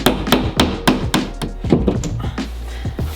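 Hammer driving a nail into a wooden wall stud, a run of about ten sharp, evenly spaced knocks close by, loud and steady with no talking.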